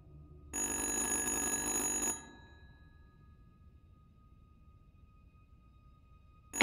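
Telephone ringing in the horror video game Little Hope: one sustained, bright, loud bell ring lasting about a second and a half, followed by a quiet stretch and a sudden loud burst at the very end.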